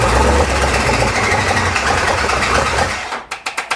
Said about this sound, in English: Oh, I think the starter is still engaged.